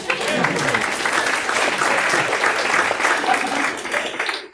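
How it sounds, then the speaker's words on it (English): Audience at a women-in-tech panel event applauding in a full, sustained burst of many hands that fades out at the end. "let's have an applause too"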